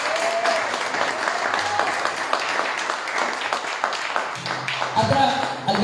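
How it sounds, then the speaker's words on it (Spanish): A church congregation at an evangelistic deliverance ministry service applauds in a steady, dense wash of clapping that continues through the whole stretch, with voices mixed in beneath it. "Un aplauso al Señor, ¿no?"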